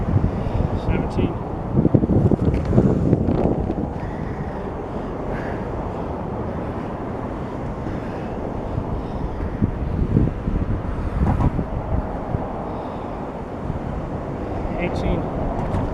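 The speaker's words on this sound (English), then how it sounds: "Got windy all of a sudden." Strong gusty wind buffets a microphone outdoors, with loud low rumbling bursts, heaviest early on and again in later gusts.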